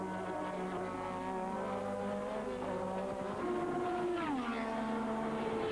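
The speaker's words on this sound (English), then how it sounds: "Keke overtaking Senna on the outside. Really charging now." Formula One cars of 1985 race at Kyalami with a continuous, loud, high-revving engine drone whose pitch rises and falls as they pass and shift, with several engines blending together.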